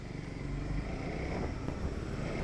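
A Suzuki GSX-S 150 motorcycle climbing the road up Mount Faber in third gear, its engine a steady, dense drone laid over heavy wind rumble, unbroken and fairly loud for the whole stretch.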